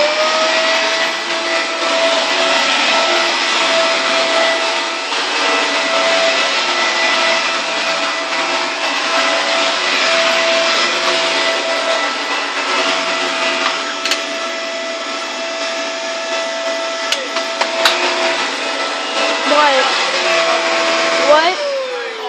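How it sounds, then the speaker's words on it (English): A vacuum cleaner drones steadily and loudly throughout, with a constant motor whine and occasional rattling bumps as it moves. "Can I just vacuum the hallway?"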